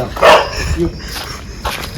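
A dog barks at night during a fishing outing in the Konkan countryside, with a loud close bark near the start and a softer bark or yelp later, over a dim outdoor background.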